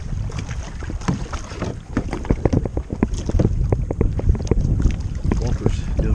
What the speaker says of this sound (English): Walker's doing most of the paddling now